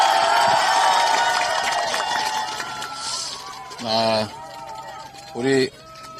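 A crowd at an outdoor Democratic Party press conference in Yangpyeong cheers and applauds to welcome the party leader. The noise is loud and dense at first, then thins out, with voices calling over it near the end.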